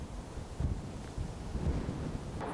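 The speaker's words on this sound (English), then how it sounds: "Oh, and it's a windy old day." Gusty wind buffets the microphone on a windy day in a London park behind Christchurch Greyfriars, a low rumbling roar that swells in uneven bursts and never fully settles.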